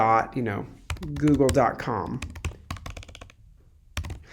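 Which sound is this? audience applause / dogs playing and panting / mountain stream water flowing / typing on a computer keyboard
typing on a computer keyboard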